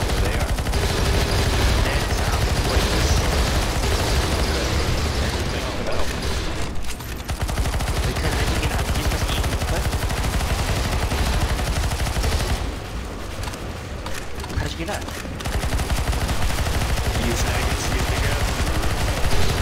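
Sustained automatic gunfire in Counter-Strike: Global Offensive's zombie escape mod on the ze_atix_apocalyps map, dense overlapping bursts from several weapons, loud and continuous with two brief lulls, with voices talking over it.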